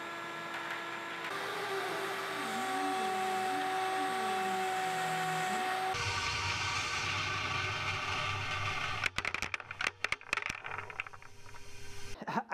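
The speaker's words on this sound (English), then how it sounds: "Who wants to see marbles get sucked up into the Cyclone?" A Clearvue CV06 mini cyclone dust collector roars steadily with a whining tone, then a burst of rapid clattering rattles as marbles are sucked up and tumble through the cyclone.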